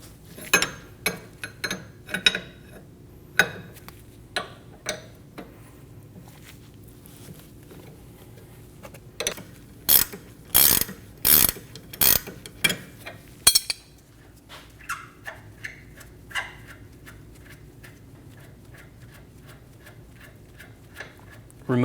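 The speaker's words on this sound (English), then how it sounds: "we're going to hold our inner tie rod still while we use a 24mm wrench and remove our tie rod" A 24mm wrench loosening the tie rod jam nut on a Volkswagen Passat steering rack gives irregular metallic clicks and ticks, close and fairly faint, with a quick cluster in the middle and talk at times.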